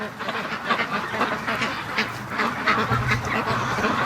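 Free-range ducks, including Pekins, quack in a busy, overlapping chorus from a yard during a morning rush, loud and steady throughout.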